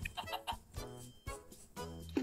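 Chicken clucking in Minecraft, a series of short close clucks and clicks over a low background hum, with a sharper squawk near the end.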